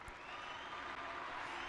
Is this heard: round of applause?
yes